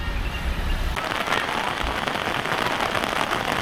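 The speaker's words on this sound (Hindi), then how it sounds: "ये हल्की हल्की बारिश हो रही है" Light rain patters steadily on surfaces at Doddabetta Peak near Ooty, a close, continuous hiss with a low vehicle rumble briefly underneath.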